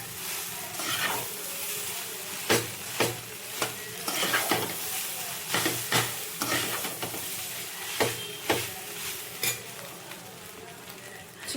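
Hot egg rice in a pan is stirred with a metal utensil, giving sharp, irregular scrapes and clinks over a soft sizzle, close by, with about a dozen strokes at an uneven pace.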